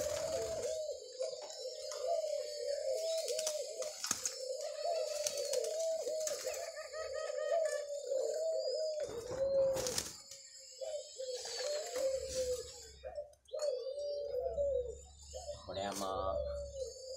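Spotted dove cooing in a repeated rhythmic series of soft, low, mellow calls, steady and close, with a few sharp clicks and a brief patch of other noise toward the end.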